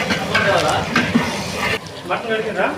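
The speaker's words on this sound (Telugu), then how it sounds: "అయితే మనం కలబెడతాము నీట్గా" Food is stirred and mixed in a cooking pan with a scraping, sizzling churn, loud and close, while a person talks over it.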